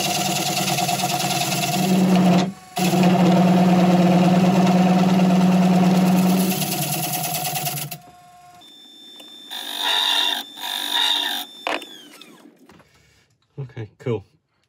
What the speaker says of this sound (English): Let's just try the gouge on there